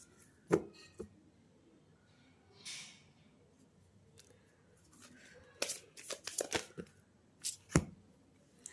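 Tarot cards shuffled by hand, with soft papery riffles and sharp slaps as several cards spill out of the deck in a quick cluster near the end, after a few isolated taps earlier on.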